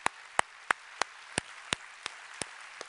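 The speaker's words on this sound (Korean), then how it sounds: "우리 하나님께 감사와 영광의 박수를 올려드리겠습니다" A church congregation claps in unison, with about nine sharp, evenly spaced claps at a brisk steady beat and no voices over them.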